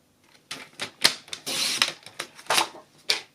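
A sheet of basic white cardstock being cut on a paper trimmer, heard as a series of close, sharp clicks and snaps with one longer rasping slide of the blade in the middle.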